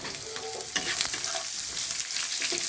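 Turmeric and amla fry lightly in oil for a pickle, giving a steady soft sizzle with gentle stirring scrapes, close and continuous with no talk.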